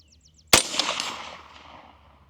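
A single sharp shot from a Bear Creek Arsenal BC-22 .22 Magnum rifle cracks out close and loud, then a long echoing decay fades over about two seconds outdoors.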